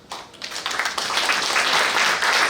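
An audience at an all-India Unani medicine meeting breaks into applause, building from a few claps into dense, sustained clapping that fills the hall.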